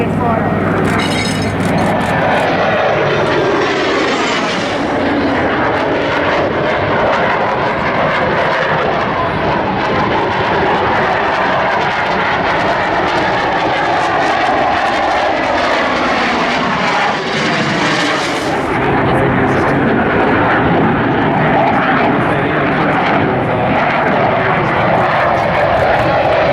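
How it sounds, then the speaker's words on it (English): A jet fighter roars overhead at the Wings Over Illawarra air show, a loud continuous engine blast that swells and shifts in pitch as it passes, with no clear break across nearly half a minute. "This is a jet fighter."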